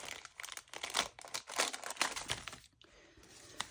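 A sticker being peeled off for reusable coffee pods, a close, quiet run of crinkly tearing and crackling pulls with a brief pause near the end.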